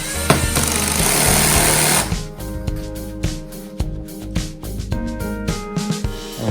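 A power tool drives screws while a power supply is being mounted, giving a loud dense buzzing burst for about two seconds, followed by a series of sharp clicks and knocks as the work continues.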